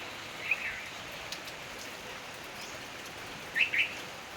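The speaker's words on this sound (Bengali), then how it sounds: "বাইরে বৃষ্টি হচ্ছে" Soft, steady rain falls outside, a quiet continuous patter with a few brief bird chirps rising above it, no talking heard.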